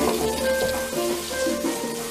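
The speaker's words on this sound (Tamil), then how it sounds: "மிளகாத்தூளும் கொத்தமல்லி தூள் மிக்ஸ் பண்ணி வச்சிருந்ததை கொட்டி நல்லா இந்த எண்ணெயிலேயே வதக்கிக்கலாம்" Chili and coriander powder frying in oil with onion and tomato for a spicy chicken masala, giving a steady, close sizzle with faint bubbling throughout.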